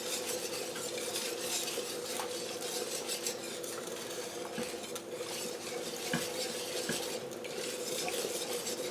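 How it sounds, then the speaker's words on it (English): Sauce for a vegan tuno noodle casserole stirred steadily in a pot, with continuous close scraping and light metallic clinks of utensil against cookware over a faint background hum, no voices. "Just stir it until it becomes a nice rich sauce."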